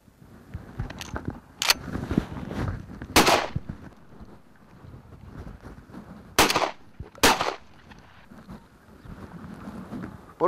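Shotgun blasts fire at crossing clay targets on an outdoor hunting range: several sharp, loud reports come in pairs, spread across the span over steady wind noise and no speech.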